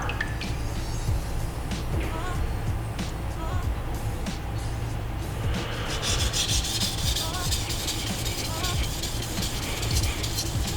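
Santoku knife stroked across a sharpening stone, with steady repeated scraping passes that grow brighter and faster toward the end, heard up close.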